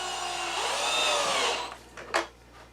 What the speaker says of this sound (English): Now instead of a screwdriver, I got this drill and a nice long